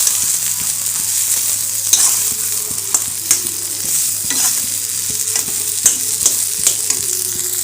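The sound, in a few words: frying and stirring food in a pan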